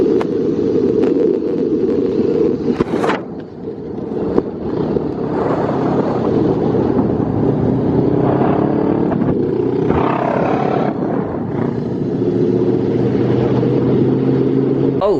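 Honda CBR500R motorcycles with muffler deleted, 2020 model, with a loud, rough exhaust droning close by and some wind buffeting over it as the engines rise and settle.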